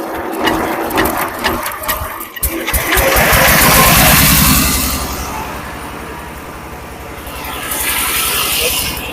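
A paddy and rice threshing mill machine starts up with a rattling mechanical burst, then settles into a loud, steady running drone that swells and eases, heard close with no clear talk.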